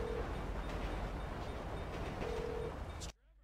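A train pulls in within the GTA 5 video game, its steady loud rumble and rolling rail noise filling the scene before cutting off abruptly at the end.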